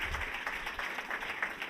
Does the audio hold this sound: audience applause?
yes